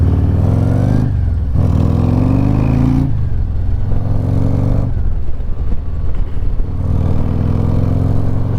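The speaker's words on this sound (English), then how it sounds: "you can hear that breather for sure" A loud 2024 Harley-Davidson Road Glide engine with a Screaming Eagle Wedge air cleaner and Pro Street Tuner revs up and down repeatedly, rising pitch sweeps between shifts, with a breathy breather intake rush riding on the motor's rumble, close and continuous.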